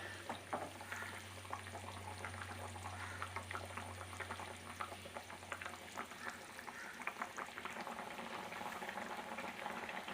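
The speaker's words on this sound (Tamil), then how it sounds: "இப்போ மீன் நல்லா கொதிச்சிச்சு, நல்லாவும் வெந்துடுச்சு." Kerala-style fish curry bubbles at a steady boil in a pot, a soft continuous crackle of popping bubbles with a low hum underneath early on, quiet and close, with no voices.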